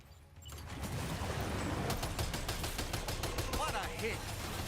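Gunfire from Sam's gun in Death Stranding 2 rings out as a rapid string of sharp cracks over a dense, loud background of game noise, with a voice talking at moments.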